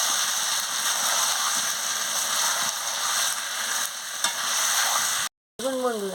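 Chicken and potatoes with spices sizzle and fry steadily in a pan as they are stirred, a loud continuous hiss with scraping, cut by a brief silence near the end before the sizzling resumes.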